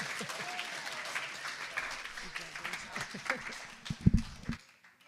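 Applause for a band and a performer at a Sunday demonstration-themed gathering, a crowd clapping steadily under ongoing talk and cheering, with a louder burst of claps near the end before it fades.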